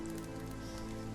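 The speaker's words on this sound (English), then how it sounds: "I would really like the rain to stop though." Steady rainfall in The Witcher 3 modded with W3EE, a continuous close, dense patter with no breaks or other sounds.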